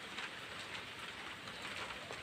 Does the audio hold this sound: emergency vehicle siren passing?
no